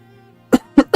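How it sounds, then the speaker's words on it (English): Three short coughs from one person, each a sharp burst about a quarter-second apart, close and fairly loud over a faint steady hum from a game in the background. "Sorry, I'm still ill, so that's why I'm coughing."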